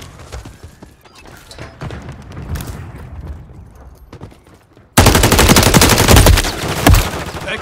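Automatic gunfire from the video game Call of Duty Modern Warfare III, a moderate combat din that jumps to a loud, dense burst of rapid shots in the final seconds.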